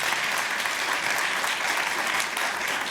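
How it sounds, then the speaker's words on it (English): Full, sustained applause from an audience for a singer at a Ramadan audition, a dense wash of clapping that holds steady throughout. "please give him a round of applause"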